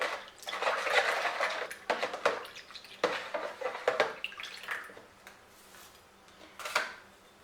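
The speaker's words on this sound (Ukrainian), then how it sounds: "Так, ретельно перемішую." Clinking and scraping of a utensil against a bowl, irregular stirring strokes mixing yeast and sugar, close and fairly busy, with no talking.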